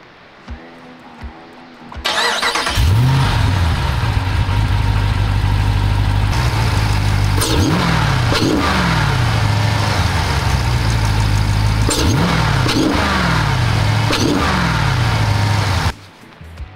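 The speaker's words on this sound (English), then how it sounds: "we've just put in a 426 Hemi, 606 horsepower, 575 pound-feet of torque." A Jeep Gladiator fitted with a 426 Hemi V8 of 606 horsepower fires up to a deep, loud idle, then gives several sharp revs that rise and fall in roughly even intervals before shutting off abruptly, with no talk.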